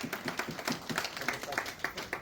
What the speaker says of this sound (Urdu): اب ایک بار بھرپور تالیوں کی گونجیں اس کی اوپر گزرنے کی سنائیں